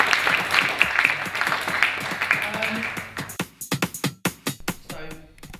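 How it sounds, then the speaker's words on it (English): An audience applauds at an evening interview event, a burst of clapping that thins out after a few seconds into scattered individual claps with some talking. "So we've got a round of applause, please."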